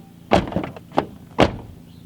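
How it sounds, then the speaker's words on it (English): Door of a widebody ST car being opened and shut, giving a few distinct thunks and clicks with a heavier closing thud, close and fairly loud with no talk. "this door opens and closes"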